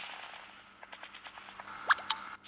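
Rapid bursts of Call of Duty gunfire heard through gaming earphones, a quick run of sharp shots followed by a couple of louder cracks, fairly faint and without talk.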